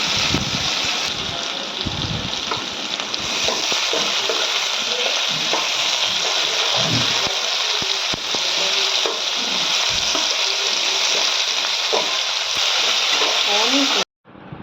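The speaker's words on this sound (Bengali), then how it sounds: "একটা কাঁচা লঙ্কা চেরা দিয়ে দিলাম আর টমেটো কুচিগুলো দিয়ে দিলাম দিয়ে ভালো করে একটু নেড়ে চেড়ে নিচ্ছি" A slit green chilli and chopped tomatoes fry in a pan while being stirred, giving a continuous loud sizzle broken by scraping, clattering stirring strokes throughout, with no talk over it.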